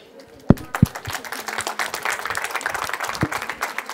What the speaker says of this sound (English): Round of applause, please, for Nate.